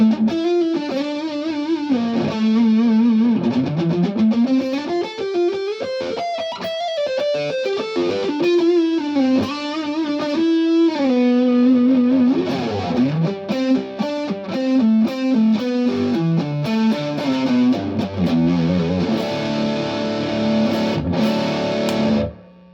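Cream Guitars Voltage electric guitar in red sparkle played through high-gain distortion with the neck pickup split, a continuous run of sustained notes and bends for over twenty seconds, stopping abruptly at the end.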